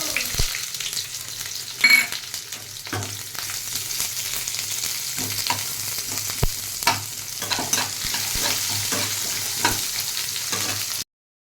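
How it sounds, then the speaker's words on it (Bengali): Onions and lentil dumplings (bori) fry and sizzle in a pan, a steady close hiss punctuated by occasional stirring scrapes and clicks, with no voices. "বড়িগুলো একটু ভাজা হয়ে গেলে পেঁয়াজটা দেবো।"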